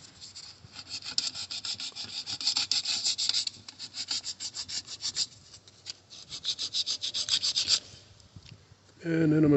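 Rapid back-and-forth rasping as an aluminum surface is scratched and scuffed by hand to prepare it for welding and brazing, coming in bursts of quick strokes with brief pauses, followed by a louder handling noise at the end.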